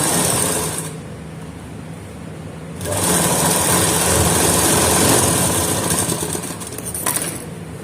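Sewing machine stitching a fabric strip onto a round neckline, running in a steady high whir that pauses briefly, then resumes for a longer burst.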